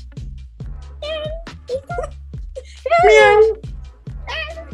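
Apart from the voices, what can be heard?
cat meowing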